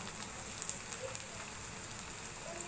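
Sliced onions fry in hot oil with a steady, close sizzle and scattered pops and crackles, continuous and even throughout with no voices.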